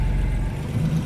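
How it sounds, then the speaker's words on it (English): An old Porsche's engine runs steadily nearby, a low, throaty mid-pitched drone with a slight rise toward a rev, heard alone without speech. "the engine sounds gorgeous."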